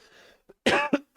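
A woman gives a few sharp, dry coughs in quick succession, close and fairly loud, after a moment of quiet breathing.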